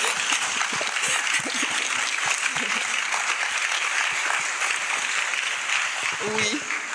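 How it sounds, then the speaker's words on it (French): An audience stands and claps for the evening's speakers at a talk in a public hall, a steady, moderately distant patter of many hands with faint voices mixed in. "On va se lever pour applaudir les intervenants de ce soir."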